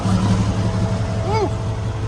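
A Kenworth truck's diesel engine rumbles at idle, a steady low drone with a brief rising whine partway through, heard close over broadband noise.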